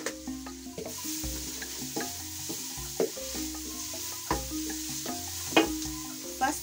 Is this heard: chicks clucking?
no